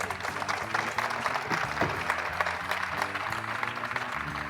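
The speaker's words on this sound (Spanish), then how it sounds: "vamos a recibir a nuestros invitados con un fuerte aplauso" An audience welcomes two guest authors, Virginia Feito and Marina Sanmartín, onto a literary panel with steady applause, dense clapping over a murmuring hall that holds evenly for several seconds.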